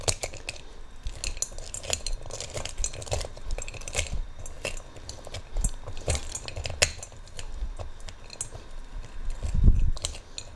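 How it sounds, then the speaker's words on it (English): Rapid, irregular clicking and clattering of a food chopper working through hard pieces of candy, steady for the whole stretch with a heavier thump near the end. "I'm going to chop those up using the Rada food chopper."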